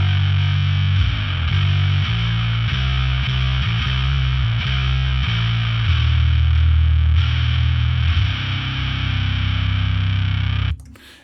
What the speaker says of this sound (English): let's hear it fuzzed out